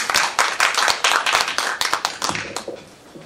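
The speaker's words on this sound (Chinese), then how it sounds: "请热烈掌声欢迎。" Dense, lively audience clapping welcomes a speaker to a forum on trade agreements and free trade, with many close hands producing rapid overlapping claps that thin out slightly toward the end.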